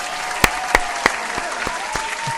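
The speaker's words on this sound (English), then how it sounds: "Here's a round of applause for you." A short round of clapping, used as an applause sound effect: sharp, loud claps repeat at a fairly even pace and fade slightly toward the end, with no voices.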